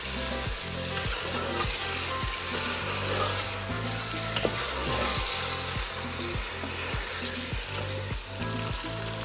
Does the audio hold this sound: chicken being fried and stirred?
yes